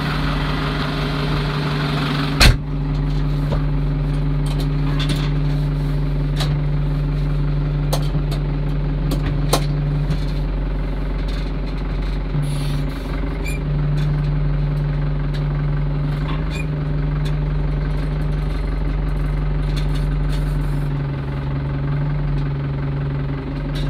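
A tractor's diesel engine idles steadily with a low, constant rumble and hum, broken by a few sharp clicks and knocks.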